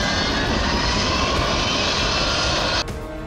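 A US Army C-17 Globemaster cargo aircraft's engines roar as a steady, loud, broadband rumble close by, continuous for about three seconds before dropping slightly in level near the end.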